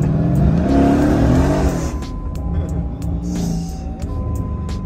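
A Mercedes Brabus with an 850 hp biturbo engine revs loudly up close, the engine note climbing and then dropping back to a deep rumble as the car drives on, with no voices.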